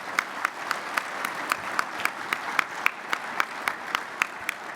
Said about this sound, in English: Let's give our sponsors a nice round of applause